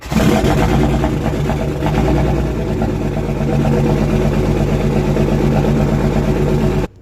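A Cummins diesel in a 2006 truck cold-starts and idles through a dumped 8-inch axle-back exhaust, a loud, steady, throbbing low rumble that carries on for about seven seconds and then cuts off abruptly.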